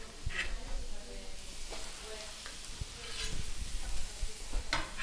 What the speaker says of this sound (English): come to our hot grill. Get that sizzling, just like that.